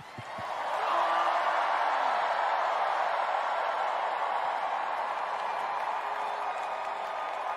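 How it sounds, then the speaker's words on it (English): A conference audience at NSGC 2019 claps on cue, then bursts into loud, sustained screaming and cheering that rises within the first second and holds as a dense, close crowd roar to the end. "We clap on three, and then we scream really loud"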